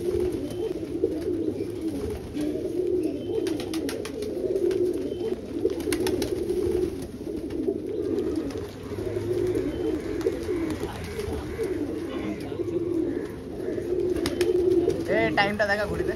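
Madras pigeons coo steadily at a Bengal loft, low throaty warbling calls repeating throughout over rustling and faint background voices.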